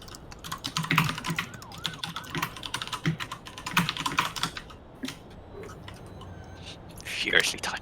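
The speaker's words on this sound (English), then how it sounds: "Furiously typing." Furious keystrokes on a computer keyboard clatter in rapid, irregular bursts, fairly close and steady across the stretch, with a faint high tone near the end.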